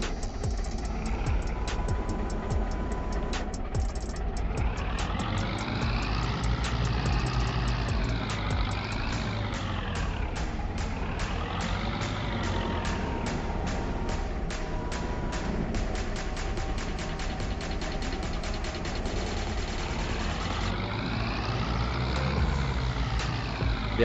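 A small tractor in Farming Simulator 22 runs steadily throughout, its engine drone holding constant while the pitch rises and falls in repeated sweeps with revving, and faint beeps sound over it.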